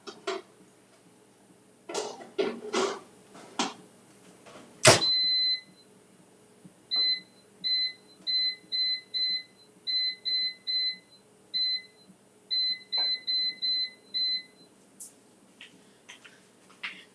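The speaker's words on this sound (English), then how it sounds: "So this is gonna go into the air fryer." An air fryer beeps as it is set: a series of short, clear electronic beeps in quick irregular groups, close and distinct, following a few kitchen clatters of a dish being placed inside.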